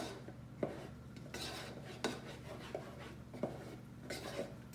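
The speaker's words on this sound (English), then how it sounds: "So we'll just give that a little stir." A spoon stirs chocolate cake batter in a bowl, giving soft scraping swirls with a few sharp clinks against the side, close and fairly quiet, with no talking.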